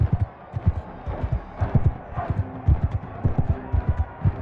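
Horse hooves galloping in Mount & Blade II: Bannerlord, a quick, rhythmic clip-clop of repeated thuds at a steady pace, fairly close and prominent with faint game ambience behind.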